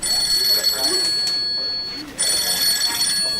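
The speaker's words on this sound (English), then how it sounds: "A phone call." A telephone rings loudly and close by in a dramatized audiobook scene, with two bursts of bright electronic ringing separated by a brief pause.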